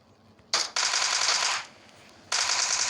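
Automatic gunfire in PUBG Mobile on the Erangle map: two loud, close bursts of rapid machine-gun fire, the first about a second long, the second starting near the end, with no talk.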